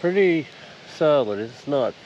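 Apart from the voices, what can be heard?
No everyday noise stands out behind the speech.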